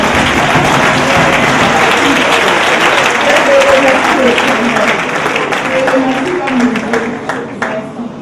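A church congregation claps and applauds in a dense, sustained burst that gradually thins out, with voices mixed in.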